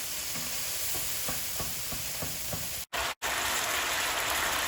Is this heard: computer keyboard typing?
no